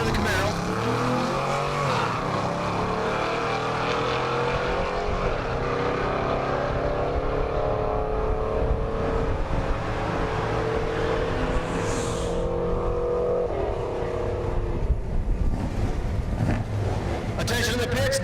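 Drag race cars, one of them a Camaro, launch down a dragstrip at a Kansas race week, making a sustained loud engine roar that rises in pitch and holds steady throughout, with distant announcer-style talk underneath.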